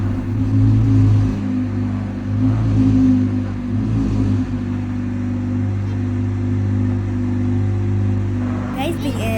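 A Ferrari's engine rumbles and revs steadily while the car is being loaded, a continuous close, loud drone with no speech.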